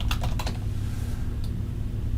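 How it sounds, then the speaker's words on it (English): Quick bursts of keystrokes on a computer keyboard while entering a Telnet command, a short cluster of clicks followed by a pause and one more tap over a steady background hum. "we're going to start Telnet by typing Telnet"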